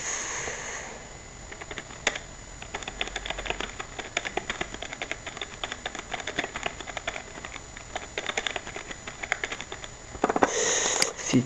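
Quiet clicking of keys as an address is typed on a computer keyboard, a fairly quick irregular run of light taps lasting several seconds, heard alone with faint room noise.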